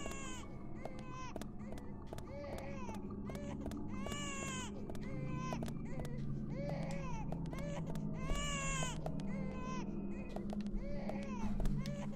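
A baby cries in repeated wailing bursts over a constant background hum, with short pauses between sobs, in the video game Deadly Premonition.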